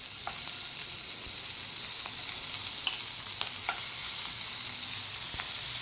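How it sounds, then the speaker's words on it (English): Chive-wrapped Wagyu beef sizzles in a hot pan, a constant bright hiss with faint occasional pops and ticks, close and without talk. "put it in there, saute"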